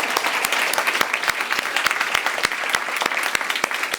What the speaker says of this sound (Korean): 오셨는데 우리 박수 한번 박수.